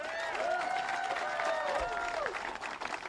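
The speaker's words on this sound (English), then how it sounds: "Give yourself a round of applause." Crowd at a United Steelworkers infrastructure bus tour stop in Chesterton, Indiana, clapping and cheering while a loud whistle or shout rises above the steady applause.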